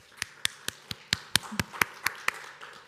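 Steady, evenly spaced hand claps, about four per second, sharp and fairly close, for Heather at a college honors society ceremony, with no voices over them.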